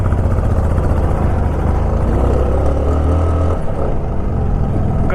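A Royal Enfield Bullet motorcycle labours up a steep mountain road in the Zanskar valley of Ladakh. Its close, loud engine drones continuously with a thumping low-end throb, and the strain deepens briefly partway through the climb.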